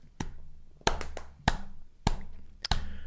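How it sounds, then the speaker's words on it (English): A single person delivers a deliberate slow clap, about six sharp hand claps spaced roughly half a second apart, close and isolated against a quiet background. "slow clap."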